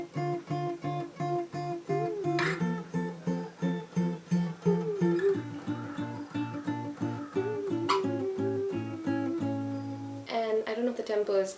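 An acoustic guitar in standard tuning plays the intro and verse of a song, rhythmic strummed chords in a steady pulse, close and clear with no talking.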